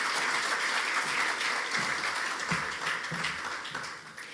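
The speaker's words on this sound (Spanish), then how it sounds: "realmente les pido un fuerte aplauso para quienes hacen posible que esta noche disfrutemos de esta velada" An audience at an evening gala applauds the sponsors, a faint, distant patter of clapping that slowly thins out.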